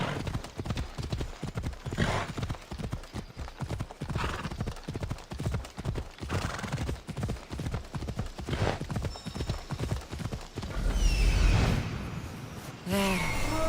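A horse gallops in the Assassin's Creed Odyssey video game, rhythmic clip-clop hoofbeats running steadily throughout at close range, with a brief whinny and some whooshing movement near the end.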